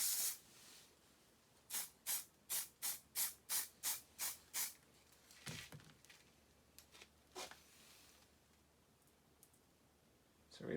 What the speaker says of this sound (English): So I'm going to spray my color, sprinkle this on where I think it would potentially rust.